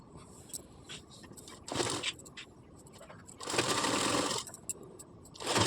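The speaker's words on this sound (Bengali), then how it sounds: "এবার এইভাবে রেখে এই সাইডে আসনটা আমি সেলাই করে নেব" Sewing machine stitching the seam of a child's Patiala salwar, running in a few separate bursts of whirring, with a longer loud run in the middle and another starting at the end, nearby and with no talk.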